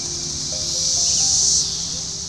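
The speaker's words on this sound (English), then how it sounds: "They then turn into this wonderful red-eyed, black-bodied, orange-winged cicada that you see here." Red-eyed, black-bodied, orange-winged cicadas drone during an emergence, a steady high whine that swells for a moment in the middle, with faint chirps and insect calls mixed into the background.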